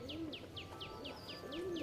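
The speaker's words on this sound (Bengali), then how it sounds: "এটা হচ্ছে 18 লেজের পায়রা আছে।" Soft, rhythmic cooing of an 18-tailed Kaldum pigeon (Bengali fancy breed) in a loft, repeated low coos with bright chirps of other birds over steady background noise.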